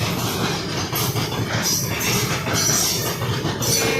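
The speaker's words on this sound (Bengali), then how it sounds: "ভাই অনেক বড় ট্রেন আছে, পাস হতে হতে দিনমান লেগে যাবে।" A long train rolls past on the railway, a steady loud rumble with repeated clickety-clack of wheels over rail joints and faint metallic squeals, continuous throughout.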